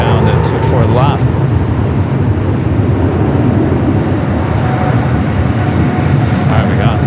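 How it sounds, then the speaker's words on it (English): Delta Airbus A321neo jet rolling down runway 24 left at LAX for takeoff, a broad, loud roar heard from the distance and continuing steadily, with people talking over it. "Got that Delta A321neo now rolling down to 24 left."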